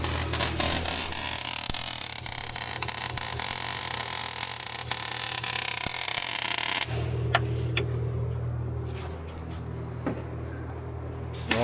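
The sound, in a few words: welding on a van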